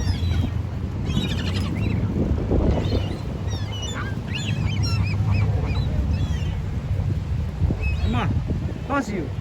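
Pigeons being fed by people at Laguna Beach, with a busy mix of bird calls scattered through steady outdoor noise and talk.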